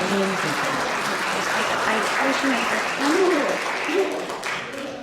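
A crowd at a labor forum on reducing the workweek to 40 hours breaks into loud, close, sustained applause, steady and full throughout, with voices audible beneath the clapping.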